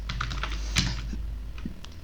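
Keys tapping on a computer keyboard while writing a leave letter in MS Word, a steady run of light close clicks over a low constant hum.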